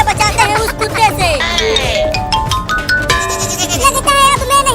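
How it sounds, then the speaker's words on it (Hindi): A baby goat in an animated Hindi comedy cartoon bleats repeatedly in a wavering, high cry over busy music and a cartoon voice. "वो रहा बकरी का बच्चा"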